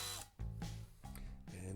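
A small power drill runs a 1.5mm hole through the posts of a 1971 Lesney Matchbox Superfast Mercury police car toy, whirring in short close bursts with brief pauses between them.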